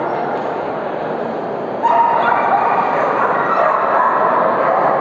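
Many dogs bark and yip at a breed contest dog show, a loud, continuous wash of overlapping barking in an indoor hall that grows louder partway through and stays dense to the end.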